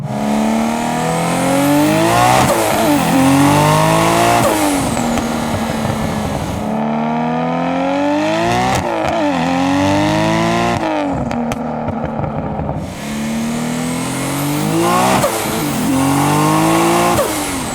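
A Nissan Skyline R33 with an RB26 engine is revved hard several times, each rev rising and falling sharply. The engine is loud and close, with brief drops to idle between pulls.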